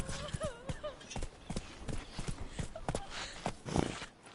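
Roach the horse in The Witcher 3 video game, with steady clip-clop hoofbeats of a horse on the move, repeating through the whole stretch alongside game ambience and brief voice-like sounds.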